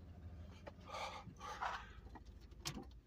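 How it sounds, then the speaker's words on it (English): Dogs inside a parked car near a spot with rattlesnakes, giving soft panting and brief whimpery sounds at close range, fairly quiet over a low, steady hum. "Look, I got my dogs in the car."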